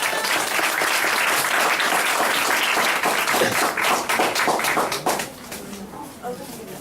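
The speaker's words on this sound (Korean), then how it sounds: "여러분, 교수님을 큰 박수로 모셔보겠습니다" Audience applause welcoming a professor at a youth forum event, loud crowd clapping with rhythmic individual claps standing out, fading after about five seconds into quieter room sound and a few low voices.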